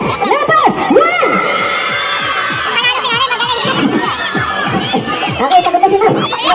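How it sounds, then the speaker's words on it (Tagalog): Crowd of people, children among them, shouts and whoops for a contestant at a summer pool resort outing, loud and close, with excited voices overlapping throughout. "Sa hiyaw at palakpak."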